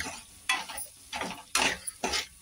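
Red chili, turmeric and coriander powder sautéed in a pan for masala Maggi, four brisk scraping stirs in quick succession over a soft sizzle, close and fairly quiet, no talk.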